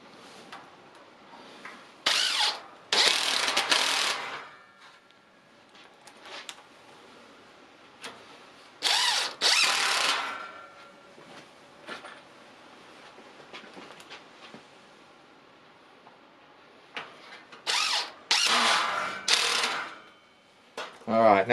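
A power drill drives screws into the wood frame of a wire rabbit cage in several separate bursts of whirring, with quiet pauses between them, close and fairly loud.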